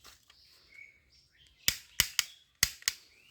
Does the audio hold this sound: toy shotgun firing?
yes